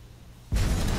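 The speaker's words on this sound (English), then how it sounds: "I'm throwing a grenade." A grenade blast erupts abruptly midway in a combat video game, a loud broadband boom that holds through to the end of the brief moment.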